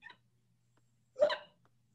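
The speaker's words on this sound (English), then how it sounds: "I have the hiccups." A single sharp hiccup sounds alone in a quiet room, preceded by a faint brief click.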